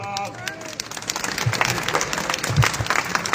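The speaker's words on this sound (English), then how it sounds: "That man deserves a round of applause." A crowd at a child-protection rally breaks into sustained applause for a man, the clapping building and holding steady with scattered voices and murmurs mixed in.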